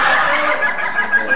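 Ayam ketawa, a laughing chicken breed, clucking steadily in a dense, bright chatter that runs the whole moment without pause, close and fairly loud with no voices over it.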